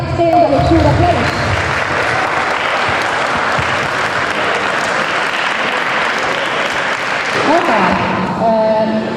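An audience at a school integration project event breaks into loud, sustained applause, full and continuous for several seconds, ending with a brief voice at the close.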